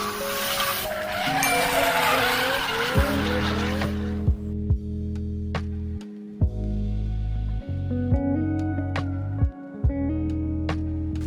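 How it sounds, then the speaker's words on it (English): Cars do burnouts at a nearby roundabout at night, with tires squealing in long, wavering screeches over revving engines. Short bursts of squeal repeat and overlap, loud and sustained. "eventually drifted off to sleep to the sound of cars doing burnouts"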